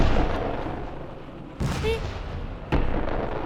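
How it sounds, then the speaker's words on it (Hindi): Bomb blasts and gunfire sound effects play on a comedy show stage, with a sustained rumbling barrage and two sharp impact bursts. A brief whistling tone rises in the middle, and everything stays fairly loud throughout. "मैंने बम गोलों की आवाज सुनी अभी"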